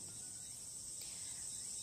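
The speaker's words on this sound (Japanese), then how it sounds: "セミとコオロギの鳴き声、つくつく帽子も鳴いているそうですよ。" Evening chorus of cicadas, including tsukutsukuboshi, and crickets in Ono, Fukui, in late summer: a dense, continuous high shrill drone, steady and unbroken, with no voices.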